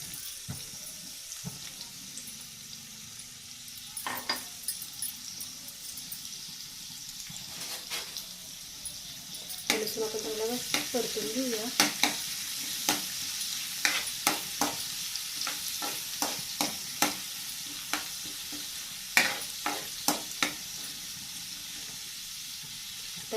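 Garlic and curry leaves frying in hot oil for a tempering, with a continuous close sizzle broken by frequent clinks and scrapes of a spoon stirring in the pan. Water runs briefly near the start, and no one speaks.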